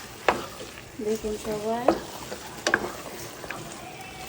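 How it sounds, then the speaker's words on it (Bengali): Onion sizzles and crackles in a hot pan for a home-cooked lunch, a continuous frying hiss with occasional stirring clatter, while someone speaks briefly over it. "এখন পেঁয়াজটা ভাজা হচ্ছে"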